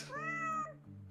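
A single short cartoonish cat meow from the video game Super Auto Pets, clear and alone, rising then falling, followed by a brief lower tone.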